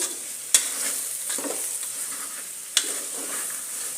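Chopped vegetables and potatoes frying in oil in a pan while being stirred; a steady close sizzle with two sharp utensil clinks against the pan, no talking.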